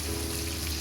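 Fish sizzles in hot oil, a brief, dense, steady crackle with no voices.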